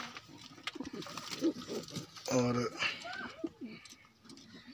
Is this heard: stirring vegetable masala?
no